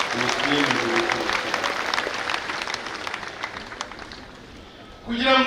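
Applause from a church congregation at an Assumption feast-day Mass rolls on steadily from start to finish, a dense wash of many hands clapping together in a large hall, then tapers near the end.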